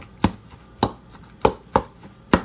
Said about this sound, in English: I know you got a masher, but I do it with a fork. A big spoon. Go ahead and mash these down.